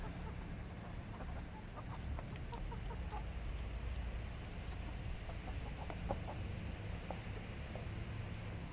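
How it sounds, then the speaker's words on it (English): Belgian chickens cluck and chatter in a yard, scattered soft calls from several birds over a constant outdoor hiss. "Belgium chickens."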